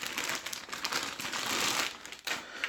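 A plastic blister pack holding a replica gun is pried open, producing loud, close crinkling and crackling of stiff plastic that continues in uneven bursts for a few seconds.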